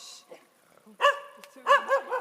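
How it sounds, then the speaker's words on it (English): A dog barks twice in short, sharp bursts, close and fairly loud, with a faint whimper-like sound and quiet gaps between them. "Oh, I love that dog."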